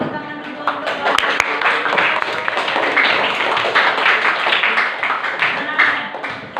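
A classroom of students claps their hands together, a brief round of mixed clapping with a few sharp slaps, blended with murmuring voices throughout.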